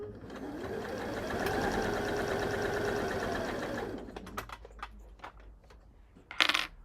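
A sewing machine stitches a folded bag strap in one steady run of about four seconds, then stops, followed by small clicks and handling noises and a brief louder rustle near the end.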